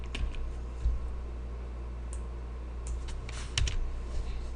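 Code is typed on a computer keyboard in quick, uneven bursts of close key clicks, with a few louder keystrokes standing out against a quiet room and no talk.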